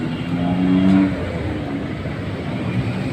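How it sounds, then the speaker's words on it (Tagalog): Cars and motorbikes rumble past on a busy city street in front of a barangay on Juan Luna Street, Zamora, one engine swelling louder as it nears, then a steady traffic drone. "Busy-busy po ngayon ang mga sasakyan."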